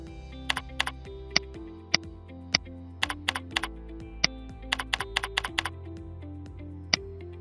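Typing on a computer keyboard while entering parameter values into antenna-design simulation software: crisp, close keystrokes in irregular clusters with short pauses, over a steady soft background tone.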